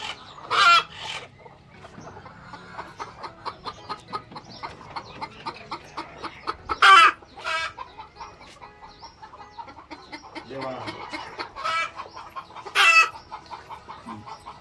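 Pure Siruvidai hens cluck steadily nearby on a farm, with a few sudden loud squawks rising above the soft, continuous clucking.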